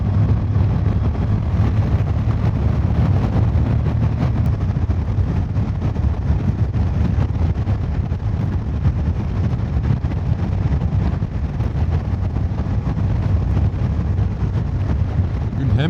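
Loud, constant roaring rush of wind buffeting the microphone while riding a Honda NC750X motorcycle on a motorway in Romania, with a low engine drone underneath and no breaks.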